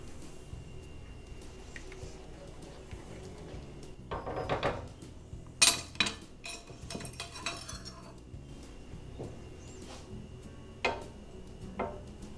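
A metal spoon clinks and scrapes against a pot of vegetarian mushroom stroganoff, with a cluster of sharp, close clinks followed by a few scattered taps over quiet kitchen ambience.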